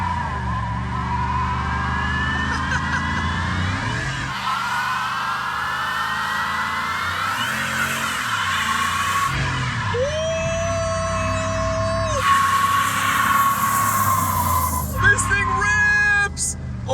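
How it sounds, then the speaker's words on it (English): A Cadillac Escalade in two-wheel drive revs hard while its tires spin, with a sustained engine roar and rising squeals and screeches, and a person talks over the noise. "burnouts for days in two-wheel drive with the Escalade"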